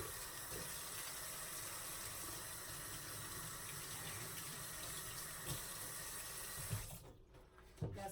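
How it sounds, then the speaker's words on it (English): Tap water runs steadily into a kitchen sink while hands are washed during cooking, a soft continuous splashing hiss that briefly dips near the end. "So let me wash my hands."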